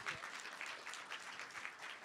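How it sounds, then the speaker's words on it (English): Audience giving a volunteer a round of applause at a precinct recruitment session, as continuous, fairly quiet clapping from a modest crowd heard from a distance. "Let's give her a round of applause real quick."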